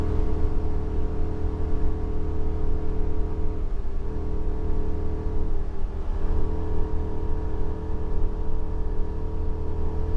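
A Ford V10 engine in a 30-foot Allegro motorhome without a Banks kit drones steadily while climbing Baker Grade, a loud, continuous low engine hum with road noise and no talking.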